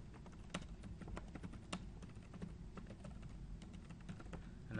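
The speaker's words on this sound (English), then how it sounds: "why the hell is he typing this over and over instead of just using up arrow?" Typing on a computer keyboard at a command line, a quiet run of rapid irregular key clicks with a few louder taps and no voices.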